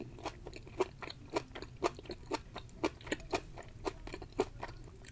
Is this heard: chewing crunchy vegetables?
yes